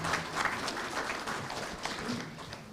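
Audience applause for election candidates at a candidate panel forum, a soft, steady patter of clapping from a moderate-sized crowd lasting a few seconds at low volume.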